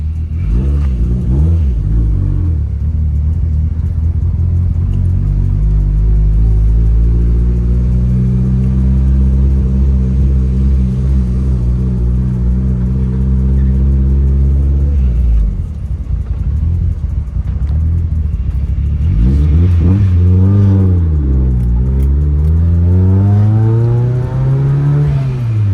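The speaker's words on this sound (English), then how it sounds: "That's the noise from the triple disc." Mitsubishi Evo 9 with a triple-disc clutch on a test drive after a transmission swap: engine revs rise and fall through gears with a droning, rumbling tone, one lift-off dip midway, then another climb and fall.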